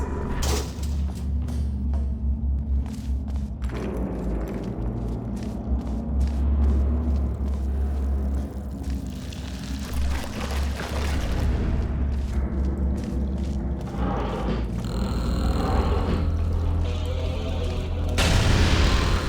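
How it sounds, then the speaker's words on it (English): Explosions and crashing, falling rocks in the Portal Stories: Mel video game, a sustained loud rumble with heavy booms and clattering bursts throughout, swelling again near the end. "The place is exploding. Rocks are falling everywhere"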